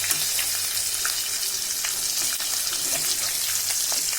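Fish frying in hot oil in a pan, a steady close crackling sizzle with small pops and bubbling throughout, no talking.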